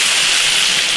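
Water pours steadily into a hot iron wok of chili-seasoned pork intestine and bullfrog stew, a loud, even broadband rush filling the whole second with no break.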